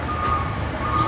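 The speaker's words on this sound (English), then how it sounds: "Garbage truck." A garbage truck backing up on a city street gives a steady reversing beep, a high tone sounding twice over low traffic rumble, fairly close and clear.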